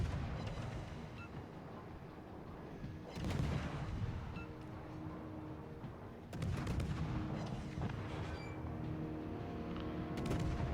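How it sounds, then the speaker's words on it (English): In a naval battle video game, heavy booming artillery fire and explosions come in repeated bursts, with big blasts hitting roughly every three seconds over a constant low rumble of distant gunfire. "Always nice to see a CV blow up that fast."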